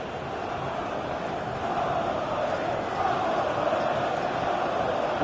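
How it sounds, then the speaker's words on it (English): Stadium crowd in a football video game with Burton Albion playing, a dense, steady roar of a large crowd, continuous and fairly loud with no distinct voices. "Well, just listen to this crowd."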